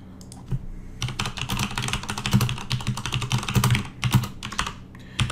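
Rapid, clacky typing on a mechanical keyboard, close and loud, with bursts of keystrokes and a few short pauses between.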